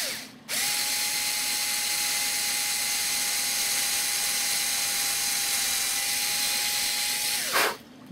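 A power drill re-drills a crooked hole in wood, whining at a constant high pitch for about seven seconds, close and loud, starting and stopping abruptly.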